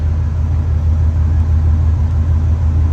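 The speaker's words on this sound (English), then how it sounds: "let's take a listen to this exhaust here" A steady, low engine rumble from a 1979 Cadillac Coupe deVille V8 on its original exhaust idles without change, a smooth, quiet exhaust burble with no revving and no voices.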